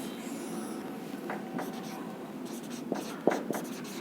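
Marker strokes on a classroom board, a few short scratchy squeaks in quick succession, soft and close in a quiet room.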